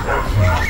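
A New York police dog's short, close, loud barking and yipping, brief and sharp, with a voice-like quality mixed in.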